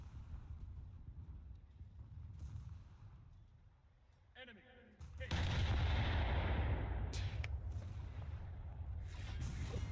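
Naval gunfire in War Thunder aimed at the Des Moines cruiser, heavy booming salvos and rumbling artillery that turn loud and dense halfway through, with someone talking over the battle.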